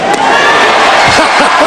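A basketball crowd at a Duke game roars loudly and continuously with shouting and whoops, over a short burst of almost two seconds.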